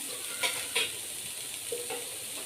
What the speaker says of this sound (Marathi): मी जी अशी शिजवून घेतली होती ना ते आता ह्याच्यामध्ये परतवून घ्यायची आहे